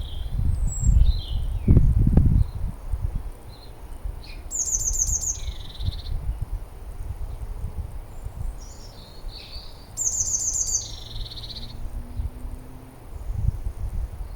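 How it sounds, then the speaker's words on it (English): A small bird calls outdoors in short high chirps and quick trills, repeated a few times over a soft bed of insect buzz and low rumble, moderately close. "There's a bird to my right."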